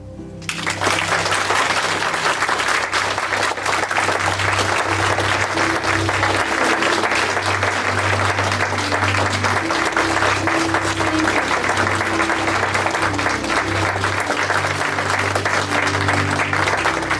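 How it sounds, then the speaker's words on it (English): A church congregation at Unity of the Valley gives long, steady applause that starts abruptly and stays loud throughout, with sustained organ or keyboard tones playing beneath the clapping. "we just want to honor and bless you with our applause"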